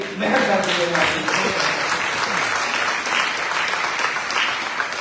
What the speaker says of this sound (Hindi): जोरदार ताली मेहनत करके देना